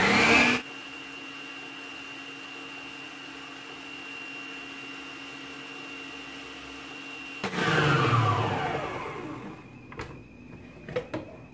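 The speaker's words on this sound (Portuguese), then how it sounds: "Vou ligar a batedeira e vou jogando as gemas aos poucos, em velocidade alta." An electric stand mixer whirs at high speed, beating egg yolks for a sponge cake batter, a steady continuous motor drone that cuts off abruptly, followed by a few clinks and knocks.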